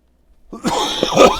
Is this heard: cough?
yes